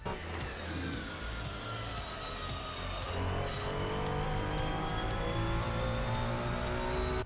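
Ferrari 296 GT3 race car in Assetto Corsa at the Zolder circuit, the engine droning loudly and continuously as it accelerates out of a corner, with rising tones and faint tire scrub, no talk.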